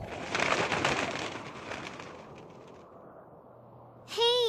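Doves coo in an animated drama scene, with a soft, low coo sounding near the end after a fading wash of background noise.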